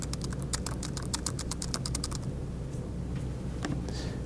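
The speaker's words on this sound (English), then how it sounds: "I just start typing IT610 because I use taxonomy auto tagging." Rapid typing on a computer keyboard while entering a tag for a Drupal blog post, a close run of crisp key clicks for about two seconds, then a few scattered taps over faint room hum.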